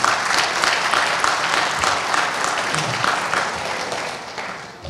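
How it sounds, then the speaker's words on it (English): Volunteers at an Ajax community celebration receive sustained audience applause, a full, even roar of many hands clapping together that holds steady before tapering off at the very end. "Have a right of applause for them."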